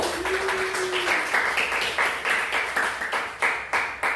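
A class claps in bursts of applause, several rounds of quick clapping that swell and fade, steady and moderately loud.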